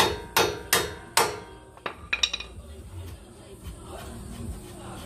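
A hammer taps a suspension shaft out during an Outback Armour suspension install on a Ford Ranger PX or Mazda BT-50: three sharp, ringing metallic strikes evenly spaced, then a flurry of lighter, quicker taps fading away.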